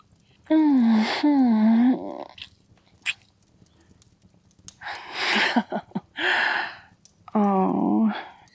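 Sharp, breathy gasps arrive in several short bursts with quiet gaps between, close and intimate in a soft roleplay setting, some of them drawn out into moaning, voiced tones.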